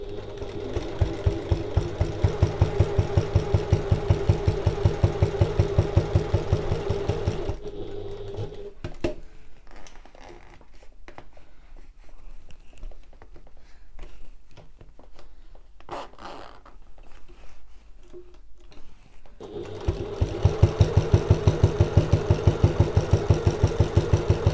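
A sewing machine stitches a narrow seam around the outside of a fabric bag box with a fast, even mechanical chatter. It runs in two long stretches, with quieter fabric handling and soft clicks between them and no talking.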